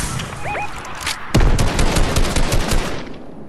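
Video game gunfire in Fortnite, dense rapid automatic bursts that start loud and close, then a heavy boom of an RPG-style explosion and continued rattling fire and crashes.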